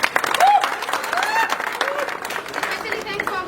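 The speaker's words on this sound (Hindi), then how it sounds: "एक बार महागुरु जी के लिए जोरदार तालियां" Applause from a crowd, a dense wash of clapping with a few voices and whistles mixed in, steady and fairly loud throughout.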